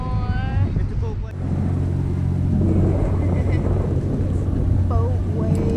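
A motorboat travels across the water off Cancun, Mexico, with a steady, loud engine drone and wind rush throughout while people talk nearby.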